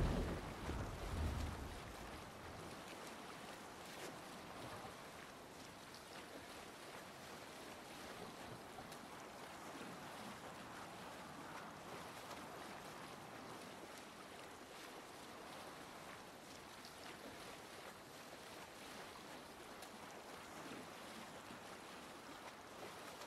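A Viking longship sailing on open ocean in Assassin's Creed Valhalla, with steady rushing waves and wind, a continuous faint wash after a brief louder bump at the start, no talking.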